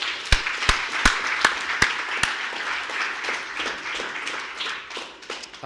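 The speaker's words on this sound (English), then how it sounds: "So let's give that team a round of applause as well." Office staff applauding at a company all-hands meeting, a few sharp, loud, close claps at the start giving way to dense, continuous clapping from a crowd that fades toward the end.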